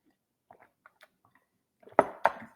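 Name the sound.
sipping Turkish chai tea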